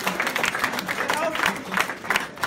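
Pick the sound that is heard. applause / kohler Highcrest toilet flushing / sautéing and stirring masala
applause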